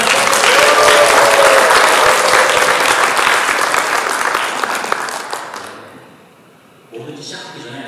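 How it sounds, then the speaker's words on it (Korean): Applause from the audience opening a Korean sustainable-development activists' forum, a loud, dense wash of clapping that builds and holds, then fades out near the end as a voice begins speaking. "여러분들의 큰 박수와 함께 힘차게 시작해보도록 하겠습니다"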